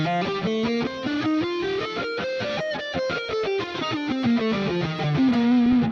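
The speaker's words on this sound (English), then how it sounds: "if we're playing with our fingers curled, we'll typically try and pull them out of the way and push the pick down so only the pick is making contact" Distorted electric guitar lead played with a pick and no ghost muting, a fast run of legato notes smeared by ringing, noisy open strings, loud and continuous without speech.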